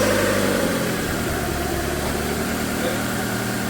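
Car engine idling close by with a steady low rumble and a slight unevenness suggesting a faint misfire, running alone without talk.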